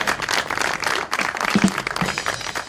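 Applause at a mushaira poetry recital, with bursts of hand clapping from the audience that come and go in uneven waves and a short pause near the middle.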